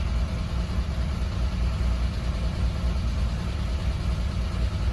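A BMW E30 325iS six-cylinder engine idles just after starting, not firing on all cylinders, and gives a continuous, uneven low-pitched drone heard up close with no talking.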